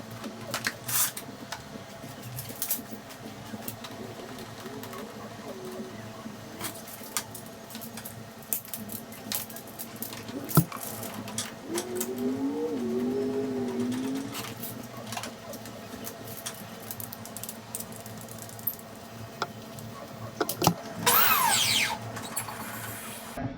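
Pressure washer running during a wash of a matte wrapped car, giving a steady mechanical hum and whine throughout with scattered clicks and knocks and a brief louder burst near the end.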